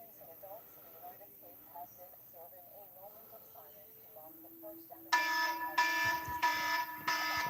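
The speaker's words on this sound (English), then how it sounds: "I apologize, that was my alarm." A phone alarm suddenly goes off, loud repeating electronic tones in rhythmic bursts that cut in after a stretch of quiet talking.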